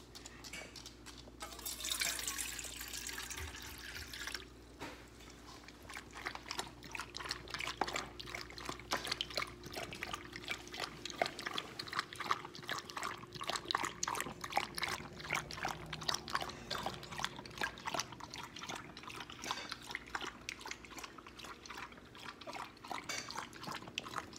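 Water poured into a dog's bowl while caring for a Westie, a continuous trickling and dripping splash that runs steadily and close by, with a faint background hum.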